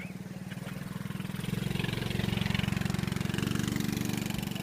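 A motorbike engine chugs along a path through rice fields, its steady pulsing putter swelling louder as it draws close, then holding near and strong.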